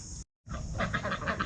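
Duck quacking in a rapid run of short nasal calls, close and fairly clear after a brief silence, no voices.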